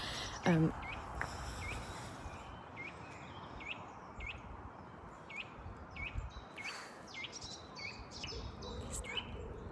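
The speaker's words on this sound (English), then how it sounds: "Oh, it's a blue tit." A blue tit calls from a tree outdoors, giving a series of faint, short chirps scattered through the passage over a soft, steady background hiss.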